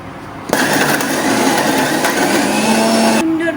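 An electric mixer grinder whirs loudly and steadily, grinding ginger and poppy seeds into a paste, in one continuous close high-pitched whine of about three seconds that starts and stops abruptly.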